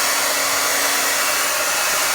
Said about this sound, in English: here's a blow dryer I borrowed from the person that lives here.